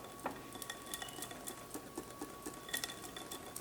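A whisk folds egg whites into a dense chocolate mousse mixture, making quiet, irregular light clicks and taps against the bowl in a soft rhythmic pattern, with no talking.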